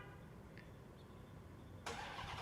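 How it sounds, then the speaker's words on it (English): A 2024 Ram TRX Final Edition pickup engine cold-starting: quiet idle-like rumble for nearly two seconds, then a sudden loud broadband roar as the engine fires and stays running near the listener. "So what kind of person would I be if I didn't give you a cold start?"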